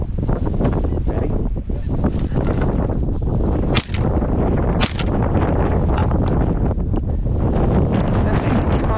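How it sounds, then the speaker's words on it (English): Shotgun blasts during a late-season goose hunt in a large corn field, two sharp reports several seconds apart over constant heavy wind buffeting on the microphone. "If these come, I'm gonna shoot my last one."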